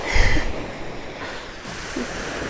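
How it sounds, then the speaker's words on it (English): Ocean surf on a Maui shore rumbles steadily in the background, with a louder low thump near the start and faint wind noise; no one speaks. "The ocean is very loud today."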